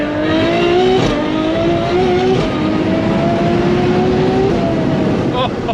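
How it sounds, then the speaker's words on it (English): A Ferrari V12 exhaust revs loud and close, its rising engine note climbing through several gear pulls with short breaks between them, carrying on alone without talk. "It might be the best sounding car I've ever driven."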